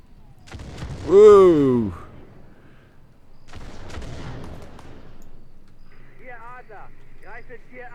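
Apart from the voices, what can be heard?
mortar fire in video game Arma 3 Spearhead 1944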